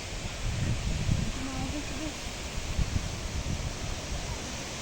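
Strong stormy wind gusting in a rural village, a broad steady rush with buffeting against the microphone, and a voice talking over it.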